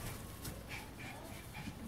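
Two dogs bark and yip in short bursts, with some whimpering, over a steady low background with a voice speaking faintly underneath.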